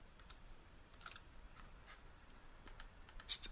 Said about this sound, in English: I'm just going to type submit.